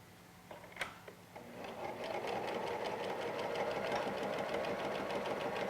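A sewing machine stitches fabric for a face mask, starting after a few clicks and then running in a steady, fast, close mechanical whir throughout, with no talking.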